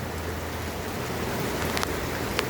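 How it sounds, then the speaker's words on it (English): Steady, dense hiss of a torrential downpour of rain, constant throughout with a few brighter drips and splashes standing out near the end. "We're having a torrential downpour, and somehow the sun is shining."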